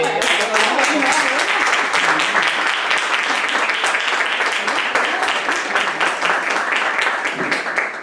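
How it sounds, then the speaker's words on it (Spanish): Audience applause at a university debate in Algeciras, a dense, sustained wash of many hands clapping close and loud for the whole stretch, tapering slightly at the end. "¡Qué buen aplauso!"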